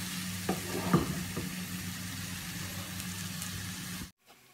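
Tomato frying in a pan for a lasagna sauce, a low steady sizzle with a few clinks and scrapes of stirring early on, then cutting out abruptly near the end.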